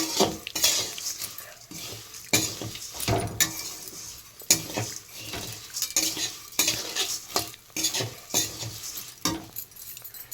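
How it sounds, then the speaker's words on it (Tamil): Food roasting in a pan is stirred with a metal utensil, giving repeated clinks and scrapes against the pan over a soft steady sizzle, close and fairly loud. "இன்னும் கொஞ்சம் வறுக்கணும்"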